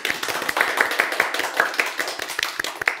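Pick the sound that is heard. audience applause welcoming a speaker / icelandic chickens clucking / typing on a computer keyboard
audience applause welcoming a speaker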